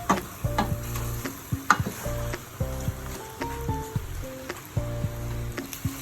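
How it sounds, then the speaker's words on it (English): Chunks of beef chuck coated in rendang spice paste brown in a pan for Indonesian beef rendang, a steady soft sizzle and stirring scrapes running under louder background music throughout. "Let the beef brown for a bit before adding in the coconut cream"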